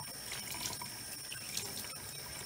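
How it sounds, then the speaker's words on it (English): Tie-dyed fabric mask being rinsed under a running tap: a steady, quiet hiss of flowing water with faint splashes as the cloth is worked under the stream. "So you just kind of rinse it until the water runs clear."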